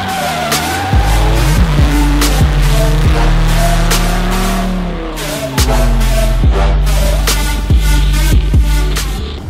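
At a Belshina Drift Pro drift competition in Vinnytsia, a car engine roars loudly and close, its revs climbing and falling, while the tires squeal steadily through a long slide.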